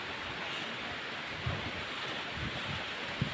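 Broadband rushing wind noise buffets the microphone, with low rumbles and a couple of gusty thumps, continuous and fairly loud.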